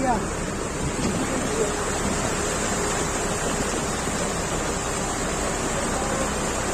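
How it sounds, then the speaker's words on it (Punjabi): Steady rushing floodwater from a breached embankment roars continuously at a moderate level, a broad turbulent wash like a strong current, with no clear voices. "ਪਾਣੀ ਦਾ ਬਹਾਅ ਬਹੁਤ ਤੇਜ਼ ਆ"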